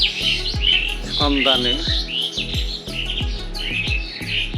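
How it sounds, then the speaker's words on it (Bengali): Mynas, sparrows and crows twittering together in a tree on a cold winter morning, bright chirps running throughout beneath loud rhythmic music, with a brief spoken word. "শালিক, চড়ুই, কাক একসাথে পাশাপাশি বসে কিচিরমিচির শব্দ করে তাদের সুখ দুঃখটা ভাগাভাগি করে নিচ্ছে।"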